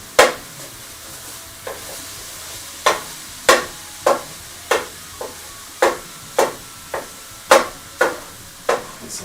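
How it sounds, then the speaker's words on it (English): Mac and cheese stirred in a non-stick pan with a non-metal utensil, giving a series of sharp scraping clacks at an uneven rhythm, roughly a dozen strokes over a faint sizzle, close and with no talking. "And stirring occasionally."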